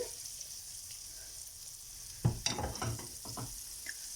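Butter melts in a frying pan with a soft, constant sizzling hiss, and partway through a few close knocks and scrapes of handling break in.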